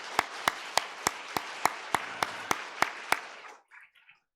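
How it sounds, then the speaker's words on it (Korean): A congregation in a Korean church service claps in unison, about a dozen sharp, evenly spaced claps in a steady rhythm, then stops, leaving a brief faint murmur. "우리 한번 박수 해주십시오."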